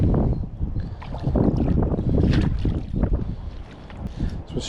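Gusting wind buffets the microphone on the water beside a fishing spot, a steady loud rush with lapping water and boat-like rumble throughout.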